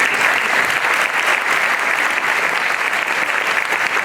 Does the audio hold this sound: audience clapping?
yes